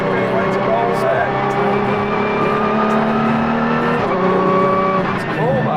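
A proper racing car's engine roars steadily while driving, loud and close from inside the car. People talk over the engine.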